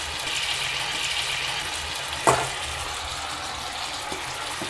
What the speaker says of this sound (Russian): Добавляем соус